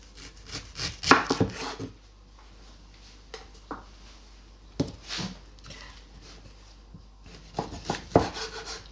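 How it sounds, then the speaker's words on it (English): Pineapple being cut into cubes on a board, with a series of irregular knife chops and thuds spaced through the stretch, some louder strikes and quieter scraping between them. "So I'm gonna cut some pineapple cubes."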